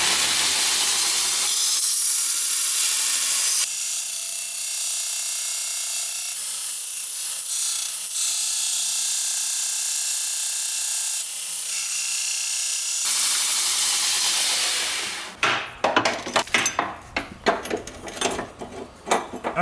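A belt sander fitted with a coarser, more aggressive belt grinds away material during a turbo K24 Nissan Cefiro build, giving a steady hissing rasp for about fifteen seconds before it stops and gives way to clattering handling noises.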